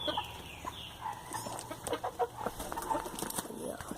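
Laying hen clucking in a backyard flock, with a series of short clucks and bird calls scattered across a busy farmyard background.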